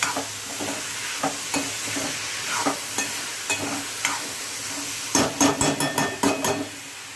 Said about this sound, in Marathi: इथे मी बटाटा घेतलेला आहे तो आपण यामध्ये घालूया आणि याला इथून चांगलं असं तेलामध्ये फ्राय करूया